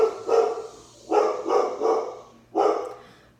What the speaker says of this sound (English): so the dog has to go nuts